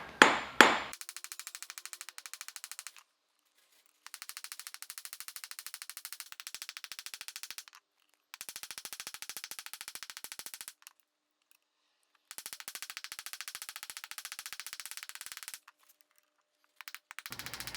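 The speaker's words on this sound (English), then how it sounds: "my goal here when I'm riveting this is to allow the rivet to mushroom out evenly" A hammer sets a copper rivet on a handmade copper coffee scoop in rapid bursts of sharp metallic taps, several runs of quick strikes separated by short pauses, close and fairly quiet.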